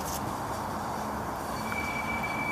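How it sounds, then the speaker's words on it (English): Light rail train on Denver's E-line, running out of service, rolls past with a steady, continuous rumble and a faint thin wheel whine, close by and unbroken throughout. "I think I just caught sight of an E-line train."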